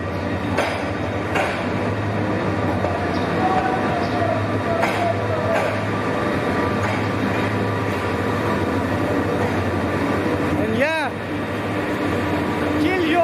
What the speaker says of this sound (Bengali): So this is our train and it's coming.